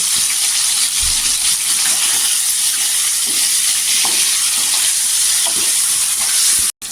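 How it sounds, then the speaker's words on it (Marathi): Paneer cubes fry in hot oil in a kadhai, a steady dense sizzle and crackle running unbroken at close range, with faint stirring pops, then cutting out abruptly just before the end. "पनीरला छान असं 10 मिनिटांना फ्राय करून घ्यायचं"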